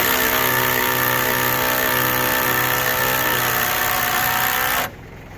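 A power tool drives large GRK structural lag bolts into wood, a steady loud motor whine running for nearly five seconds before cutting off abruptly.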